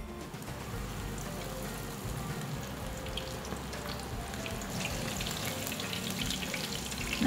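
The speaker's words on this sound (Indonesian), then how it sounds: "Terus langsung kita goreng." Steady, crackling hiss of thick-battered chicken fillet frying in hot oil, continuous and moderately loud with no voices.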